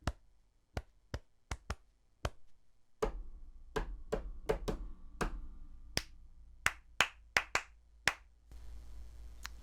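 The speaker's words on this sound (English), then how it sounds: "If you're not comfortable with clapping, tap your chest." Someone taps a rhythm pattern on their chest, a series of crisp, close percussive hits in uneven groupings, clear and fairly loud over a low background hum with no talking.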